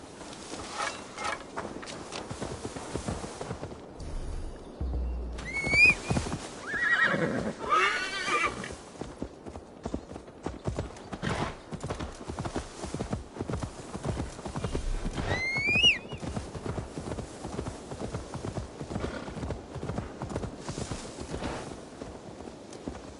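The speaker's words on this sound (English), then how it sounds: "Now to deliver Magni his horse." Repeated hoof clip-clops with a couple of sharp horse whinnies in Assassin's Creed Valhalla, set against a busy game background of steps and ambient clatter.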